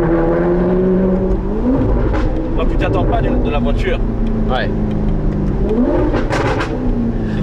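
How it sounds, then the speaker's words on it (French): An Alfa Romeo 8C Spider's exhaust crackles and pops with sharp, gunshot-like bangs over a steady engine drone, while people talk inside the car. "Surtout il y a des tels retours à l'échappement."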